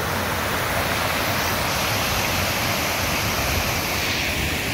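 Tara waterfall at Tara Dam in Purulia pours in a loud, steady, unbroken rush of falling water that fills the whole scene, heard up close with no voices.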